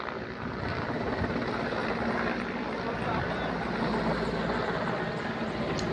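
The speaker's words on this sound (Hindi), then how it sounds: "हेलीकॉप्टर आपको हर 10 मिनट के बाद दिख जाएगा आपको।" A helicopter's steady rotor drone hums continuously at moderate distance over the Kedarnath pilgrimage route, a low rumbling whir that stays even throughout.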